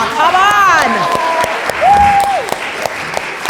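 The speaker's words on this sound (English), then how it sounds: "Do you want to hear a round of applause for you?" A panel audience at an intergenerational event breaks into steady applause that fills the whole stretch, with a voice whooping in rising and falling tones over the clapping near the start and again midway.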